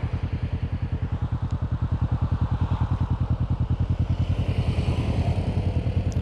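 An Indian Scout Bobber motorcycle engine with a steady, rapid low thumping pulse, loud and close as it runs along the road, with faint wind noise over it and no talking.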